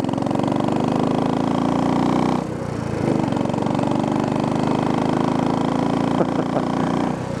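A Royal Enfield motorcycle engine runs steadily on a cool morning commute, a loud continuous thumping drone with a brief dip in the middle, mixed with wind rush.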